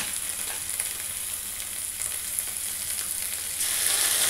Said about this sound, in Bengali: কাঁচা লঙ্কা কুচি দিয়ে ভালো করে মশলাটাকে কষিয়ে নিয়েছি।